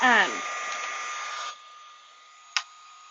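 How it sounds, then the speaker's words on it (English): A heat embossing tool switches on with a brief rising whir, then blows a steady, fairly loud hot-air hiss that drops to a quieter level partway through, broken by one short click near the end. "I have my heat embossing tool and I just turn it on"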